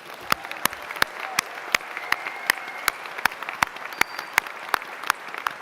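Applause at a medical school white coat ceremony: distinct, fairly regular hand claps ring out over a soft wash of crowd clapping, close and crisp, with no talk over them.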